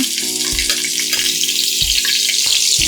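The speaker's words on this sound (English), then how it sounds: "when you're sauteing meat like this, when you're trying to get the flavor onto the meat and browning the meat" Pork browns in a pan for black-eyed peas and greens, giving a loud, steady hiss of frying close by, with a few soft low knocks underneath.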